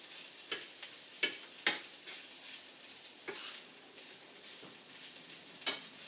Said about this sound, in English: So it kind of stir frying it a bit.